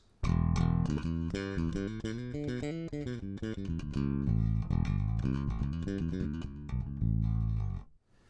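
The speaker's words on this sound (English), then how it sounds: "the bass that I'm using today and that I used to build this patch in the first place is my Ormsby Bass GTR 6 in Dragon Burst finish" Ormsby Bass GTR 6 six-string bass in Dragon Burst finish played dry through a DI, a run of clear, punchy plucked notes with strong low end, steady and loud, then fading out.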